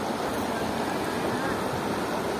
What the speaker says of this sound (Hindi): कितना ही साफ झरना आ रहा वहां से बहता हुआ सामने से।